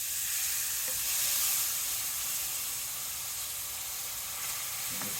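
Milk is stirred into chicken meatball gravy in a hot pan, giving a steady close sizzle with a soft hiss and faint scraping of the spoon, and no talking.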